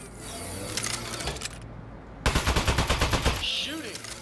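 Aperture Science Turret from the game Aperture Desk Job firing a rapid burst of about a dozen evenly spaced, loud shots, followed by a short electronic chirp. Quieter game sounds come before the burst.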